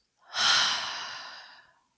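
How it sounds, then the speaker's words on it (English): One slow deep breath, a soft airy rush that swells quickly, then tapers away over about a second and a half, close and quiet, with no talking. "I just want us to take a big, deep breath in, deep breath out."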